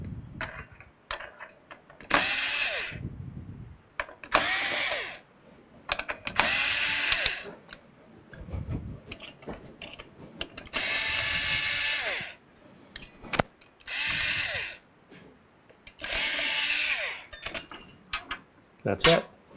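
A screwdriver backs the screws out of a PC CPU cooler with intermittent close ratcheting and clicking bursts and handling clatter between them.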